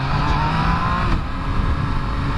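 A 2017 Yamaha FZ-09 motorcycle engine pulling hard under acceleration, a loud continuous close-up drone with a rising pitch and wind rush throughout.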